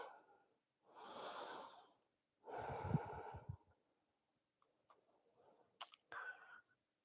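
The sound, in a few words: breathing during yoga stretch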